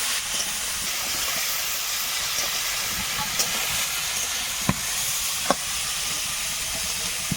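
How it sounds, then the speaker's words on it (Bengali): Cauliflower florets and potato pieces frying in oil in a pan with turmeric and salt, giving a loud, continuous sizzling hiss with a few faint pops and clicks and no talk. "এখন এই ফুলকপি আর আলুটাকে একটু ভেজে নেবো লাল লাল করে"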